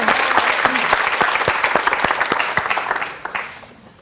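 A studio audience at a KBS health talk show claps warmly for a 2006 Miss Korea's walk, a dense burst of applause that stays strong and then slowly fades out over a few seconds.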